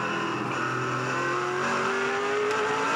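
A 2007 V8 Supercar engine roars at the Sandown 500 race, a loud, steady, close snarl whose pitch climbs gradually as the car accelerates, with no voices over it.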